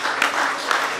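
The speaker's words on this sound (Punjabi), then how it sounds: "ਤਾੜੀ ਤੇ ਮਾਰੋ ਯਾਰ" Audience applause at a live stage comedy drama: a brief, steady burst of many hands clapping, fairly loud and continuous for about a second with no one speaking.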